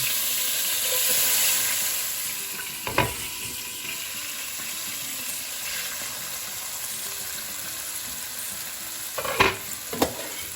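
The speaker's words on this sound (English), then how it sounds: "I'm going to start adding the mung beans using my spoon" Sprouted mung beans are spooned into a pan of hot oil seasoned with asafoetida and salt. A steady sizzle and hiss fills the pan, broken by a few sharp spoon clinks and scrapes.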